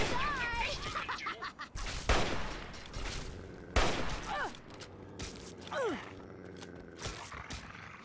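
Gunfire in the video game Fallout 3, with several sharp bursts of shots among whooshing and mechanical game effects, fairly faint overall.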